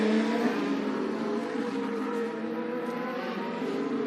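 A Formula 1 race car engine drones with a high, steady whine that holds through the whole stretch, heard at some distance on track during 2023 preseason testing, without talk.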